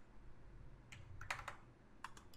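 Keys clack on a computer keyboard while text is entered into Notepad, coming as a few soft scattered taps and then a short quick burst, quiet and close, with no talk.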